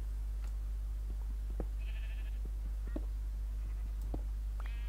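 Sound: sheep bleating in Minecraft video game

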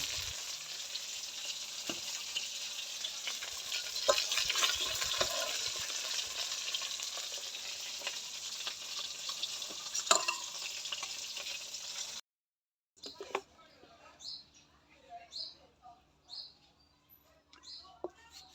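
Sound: frying cauliflower, potato and eggplant in oil in a pan

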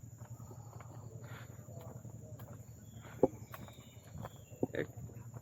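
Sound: crickets chirping in forest

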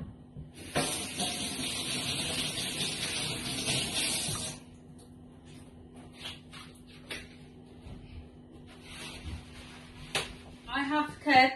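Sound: washing hands under running tap water

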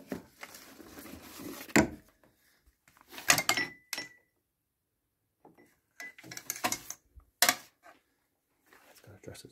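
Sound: drawer handled in an abandoned cottage

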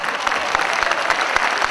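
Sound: audience applause

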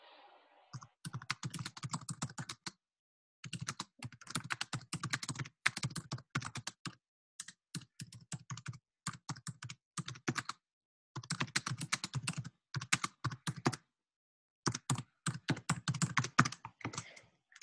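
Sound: typing on a computer keyboard

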